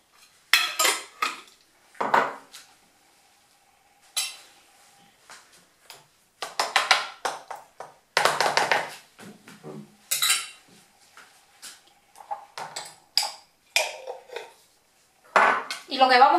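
Mayonnaise being stirred with a generous spoonful of hot chili paste in a bowl, heard as repeated scraping and clinking of a metal spoon against the dish in irregular bursts, with a voice speaking now and then.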